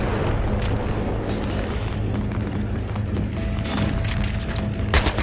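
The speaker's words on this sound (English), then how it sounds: "let's blow up the gas station and the tank with it" A gas station and a tank blown up in Battlefield 3, a sustained loud rumbling boom with crackling debris and low roar filling the whole stretch, ending in a sharper burst.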